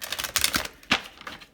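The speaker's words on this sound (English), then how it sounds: "shuffle one more time and then we will pull these cards" Tarot cards are shuffled by hand, a quick series of crisp riffling taps and snaps close by, uneven in rhythm with a sharper flick near the middle and no talk.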